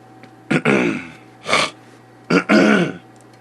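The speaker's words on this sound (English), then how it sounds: "I need to learn how to clear my throat during podcasts" Three separate throat clearings from one nearby person, short rough bursts spaced about a second apart in a quiet room.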